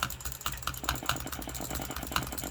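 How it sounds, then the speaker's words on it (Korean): A computer mouse is butterfly clicked for a Roblox Bedwars game, giving a fast, steady stream of close, crisp clicks over a low background hum. "버터플라이 클릭은 나비 날개처럼 이렇게 해야 됩니다"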